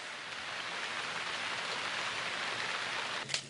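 Steady rain falls on crude-oil-polluted ground in the Amazon, a dense continuous hiss of drops on the surface with no talk, near and even throughout, with a brief brighter splash near the end.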